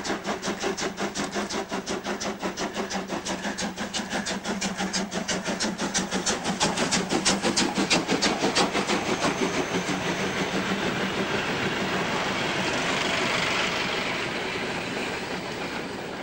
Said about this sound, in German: Im Dezember 2000 wurden die Stellwerker in Finnentrop von diesem Dampfzug überrascht.